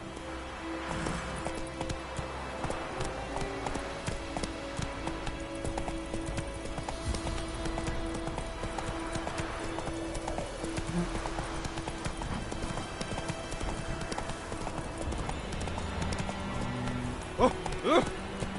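Roach, the horse in The Witcher 3 video game, gallops with steady rhythmic hoofbeats and a brief whinny, over game music and ambient sound, with a voice speaking briefly.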